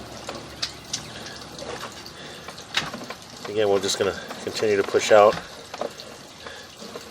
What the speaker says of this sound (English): we got a little bit of water running